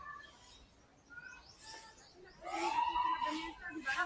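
A bird chirps and calls a few times outdoors in a park in Quezon City, with light background noise and faint voices nearby.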